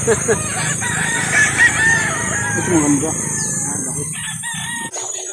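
A rooster crows loudly and close by at a chicken market, a long drawn-out call, with a brief spoken remark near the start and farm noise around it.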